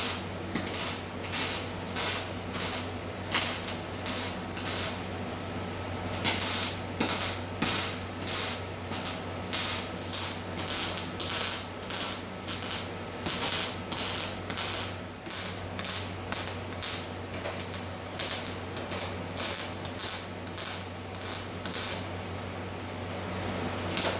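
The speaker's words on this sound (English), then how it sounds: "You saw me there going in and welding something and then going off again and coming back to it." Welding on the rusty bottom of a car door, a long series of short, regular crackling buzzes separated by brief pauses, close and fairly loud over a steady low background hum.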